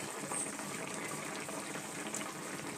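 Mango and pineapple chutney boiling in a pot, a continuous bubbling hiss with soft pops, steady and close, no voices.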